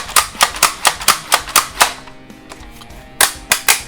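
A Halo 5 Nerf gun being cocked and fired, rapid sharp plastic clacks in a steady run of about a dozen, a short pause, then a few more close, loud snaps with no one talking.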